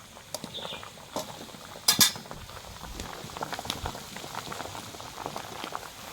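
Wild chicken eggs bubble in a pot of boiling water, a soft continuous seething dotted with small pops and a couple of brief metallic clinks, fairly quiet and without voices.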